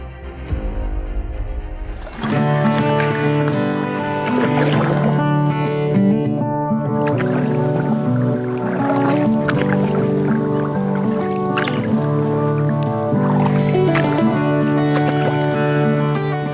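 A small fiber boat moves on river water, with gentle liquid squishing and dripping sounds alongside a continuous layered tonal hum that sits over the water noise for most of the stretch.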